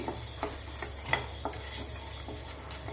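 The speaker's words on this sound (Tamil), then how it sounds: "இப்போ கருப்பு உளுந்து வறுத்துடலாம்" Black urad dal dry-roasting in a pan, stirred with a utensil that gives rhythmic scrapes and light clinks about twice a second over a faint low hum, close, with no voices.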